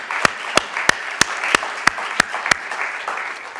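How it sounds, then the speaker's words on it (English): Applause at a medical-society talk, with sharp rhythmic claps landing at an even pace over a wash of crowd clapping that carries on after the beat stops. "round of applause"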